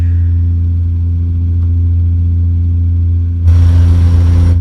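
A heavy truck engine in American Truck Simulator drones loud and steady at cruising speed with a deep rumbling vibration, then swells noticeably louder near the end as the load increases.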